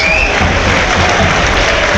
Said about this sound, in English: Devonta J. Bird getting applause from the home fans